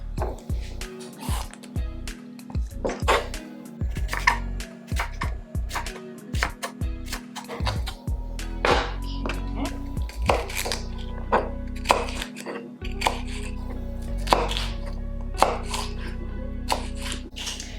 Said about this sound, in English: Let's chop up some vegetables for our hummus